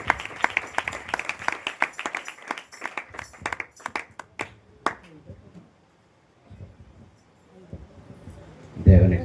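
A church congregation at a fasting prayer meeting claps in quick, steady rhythm for several seconds, then the clapping thins to scattered taps and quiet room noise before a sudden loud burst at the end.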